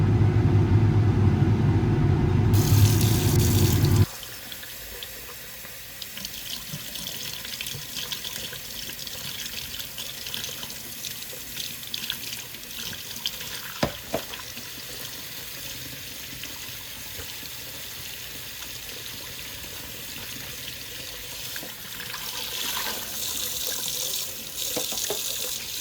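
Tap water runs to rinse recovered gold from used filter papers. It opens with a loud rushing stream that stops after a few seconds, leaving quieter handling noises and faint splashing.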